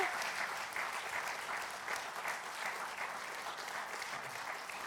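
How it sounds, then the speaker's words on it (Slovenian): An audience at a table tennis club anniversary celebration applauds young players with steady, dense clapping throughout, even and sustained. "In še en velik aplavz strani publike za naše mlade tekmovalce"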